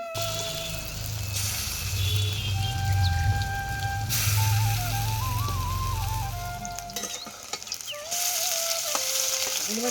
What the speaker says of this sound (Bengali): আর আমাদের নুন লঙ্কা দিয়ে বেশ করে ভেজে নিচ্ছি